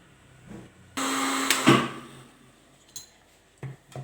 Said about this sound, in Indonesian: Ayamnya di blender bersama dengan sayuran yang sudah halus.